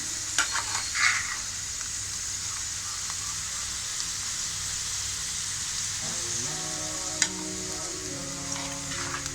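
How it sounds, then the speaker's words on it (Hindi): Onions frying in a pan for a cheese omelette, a steady hiss of sizzling oil running throughout with a few faint scrapes and stirring clicks, no talking. "प्याज को अपनी लाइट ब्राउन करना है।"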